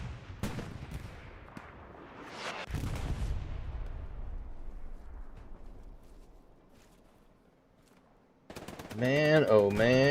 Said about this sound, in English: Armor firing off from the distance.